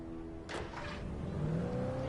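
A car engine in Alan Wake Remastered hums steadily and rises into a rev partway through, close and moderately loud, with a brief whooshing burst near the start; no talking.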